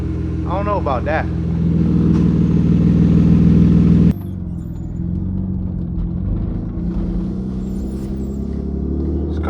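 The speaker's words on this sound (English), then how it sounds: "This car is driving pretty weird," A BMW E36 car drives on the road with a deep, steady engine rumble heard from inside the cabin. The drone holds louder for the first few seconds, then drops to a lower, quieter hum.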